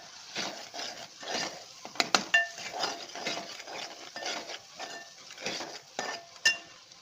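A spoon stirs turmeric, coriander powder and salt in a cooking pan with repeated scraping strokes and occasional sharp metallic clinks, close and fairly quiet.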